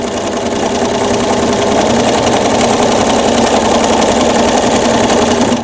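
Sewing machine stitching a feather design while machine quilting, a loud, continuous fast whirring hum with a rapid mechanical chatter that runs without a break, no voices.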